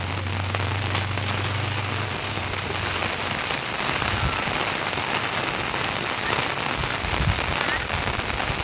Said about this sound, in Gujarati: વરસાદ અત્યારે પડી રહ્યો ધોધમાર.